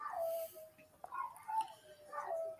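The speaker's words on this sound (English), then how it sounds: "you guys can hear my dogs going batshit crazy right now" Distant pet dogs at home make faint, excited, high-pitched whining yelps that rise and fall over a short stretch, heard softly through a room.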